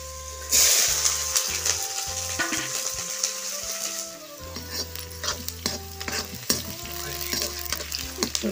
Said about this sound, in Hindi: तो बहुत ज़्यादा गरम हो गए हैं, तो अब मैं डाल दूँगी लहसुन